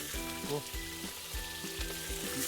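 Meat frying in a kazan over an outdoor campfire for plov, giving a constant close sizzle and crackle with a low rhythmic pulsing underneath.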